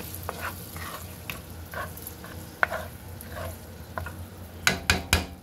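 Tomatoes for jollof rice cook in a pot with a soft sizzle and bubbling, broken by a few spoon scrapes and louder stirring clinks near the end.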